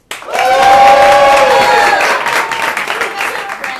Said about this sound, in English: Give us a round of applause if you know someone in the show tonight.